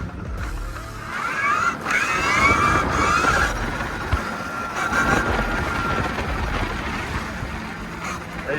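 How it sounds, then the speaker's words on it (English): Electric trike motor in a sporty mode whines up and down in rising pitch sweeps during a couple of wheelies, near and fairly loud over tire and wind noise. "We're gonna do a couple wheelies just for the camera."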